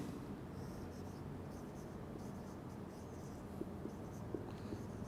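Pen or marker writing on a board during a chemistry lecture, soft faint scratchy strokes over a low room hum, with no speech.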